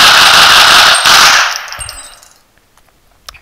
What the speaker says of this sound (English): You have to shoot in the face with an AK-47.